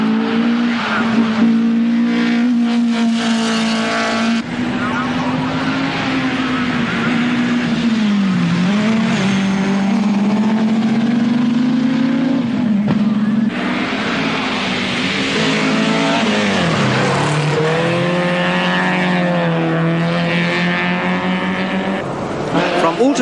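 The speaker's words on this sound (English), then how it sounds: "rallying comes to Alton Park in Cheshire for 2 laps of the racing circuit" Rally cars from the 1983 Lombard RAC Rally lapping a Cheshire racing circuit, a loud continuous engine roar that rises and falls with revving and gear changes throughout.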